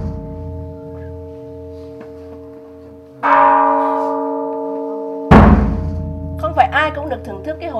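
A temple bell is struck twice, each ring loud and close with a long humming decay, before a voice speaks briefly at the end.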